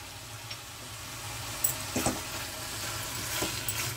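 Palak spinach saag with chopped green chillies sizzles softly in a kadai as it is spread and stirred, giving a steady frying hiss with a few utensil scrapes and clinks, close and fairly quiet, with no speech.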